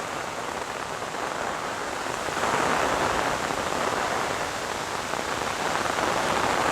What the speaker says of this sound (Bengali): কারণ এত পরিমাণে বৃষ্টি।